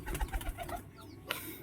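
Pigeons kept in a home coop give soft, faint coos in a few quick pulses, followed by a brief rustle. The birds sound close but quiet.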